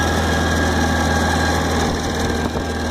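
A 1974 Jensen Healey engine with new carburetors runs cold with the choke on, a steady, loud, close idle with constant mechanical vibration.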